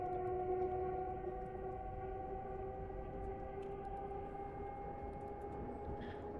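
Cab noise of an Avanti Class 805 train in Train Sim World, a loud steady drone with sustained tonal whine layers and constant rumble, continuous and close, with no talking.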